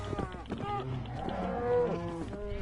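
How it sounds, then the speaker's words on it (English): Pigs in Minecraft Bedrock Edition grunt and oink close by in a quick run of overlapping calls, with no talking. "Pigs! Here, piggies! Come here, pigs."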